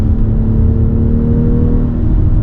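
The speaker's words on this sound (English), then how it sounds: "driving X3 M40i on the regular tires. In fact, all season, not even summer tires" BMW X3 M40i from 2023 on all-season tires, engine droning steadily and close with a low whirring hum as it drives, loud and alone without voices.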